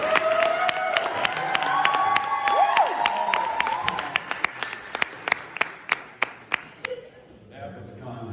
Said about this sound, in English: You don't need to stop clapping.